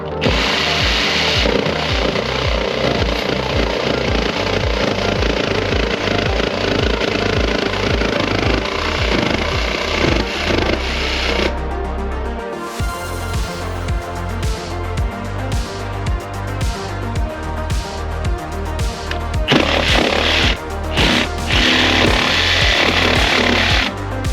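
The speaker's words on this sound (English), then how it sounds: "I'm gonna get the jigsaw and have a little crack" A handheld jigsaw cuts through panel material during the build of a 6x6 expedition truck, a loud, close, rapidly chattering blade whine that runs almost continuously, pausing once briefly before resuming with slightly shifting pitch.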